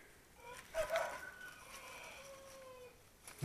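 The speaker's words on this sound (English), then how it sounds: "A rooster with a sore throat." A rooster in a garden in Panama crows once in a hoarse, rough voice at moderate distance, the strained call trailing off into quiet outdoor background.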